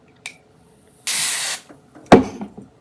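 Tresemme Keratin Smooth Weightless Antifreeze Finishing Spray is sprayed onto a comb in one steady half-second hiss, close and loud, preceded by a small tap and followed by a sharp clack and faint handling noises.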